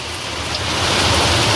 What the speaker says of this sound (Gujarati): અવાજ બહુ આવે છે ભાઈ. વરસાદ એટલે વરસાદ, બહાટી જ બોલાવે છે